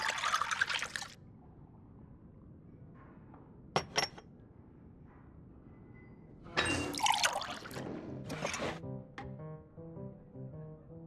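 Water poured into a drink in the Genshin Impact game, short trickling and pouring bursts with a few clinks, separated by quiet stretches and soft music.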